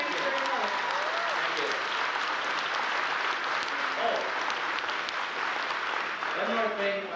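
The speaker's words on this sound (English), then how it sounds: "Let's have a nice round of applause for our special guest." A convention audience applauds a special guest, Star Trek authors, in 1988, with steady continuous clapping throughout while voices talk briefly over it near the start, middle and end.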